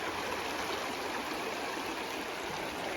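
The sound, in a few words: river stream flowing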